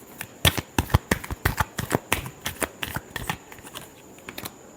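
Tarot cards being shuffled by hand, a rapid run of crisp riffling flicks and soft slaps in an uneven rhythm, close and fairly loud, slowing and tapering off toward the end, with no talking.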